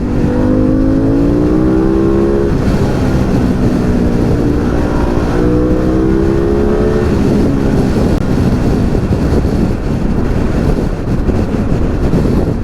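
A Harley-Davidson Pan America motorcycle engine revs hard and high to about 8,000 RPM, its pitch sweeping upward before settling into a rough, continuous roar with wind buffeting the microphone.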